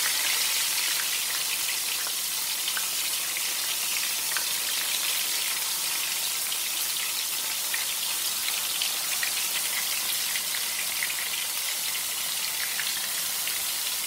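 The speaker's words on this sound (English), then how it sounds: "I'll let it fry until it's golden brown." Fish frying in a pan over medium heat, a steady dense crackle and sizzle of hot oil that runs continuously and evenly throughout, close and with no talking.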